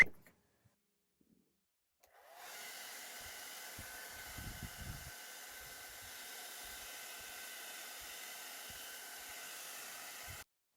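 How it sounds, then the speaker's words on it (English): After a short silence, a hair dryer switches on and blows with a steady, whooshing hiss close by, with a few faint knocks underneath. "we're going to skip the rinse and just heat dry them with a hairdryer."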